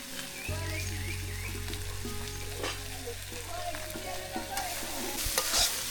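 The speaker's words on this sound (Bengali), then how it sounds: "করলা ভাজি হয়ে গেছে" Bitter gourd frying in a pan in a village kitchen, a continuous sizzle with the scrape of a spatula stirring it at intervals throughout.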